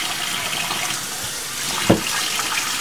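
Rice is rinsed in water to wash out its starch, giving a steady wash of running, sloshing water with one brief, sharper splash partway through and no talk.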